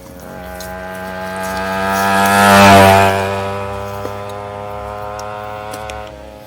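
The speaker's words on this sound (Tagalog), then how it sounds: "Bro, motorsiklo bro, dumadaan." A motorcycle passes by on a mountain road, its engine swelling from a distant hum to a loud peak close by and then fading away as it moves off.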